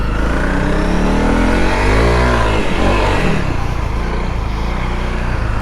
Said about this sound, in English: So I'll do that again just so you can hear the bike.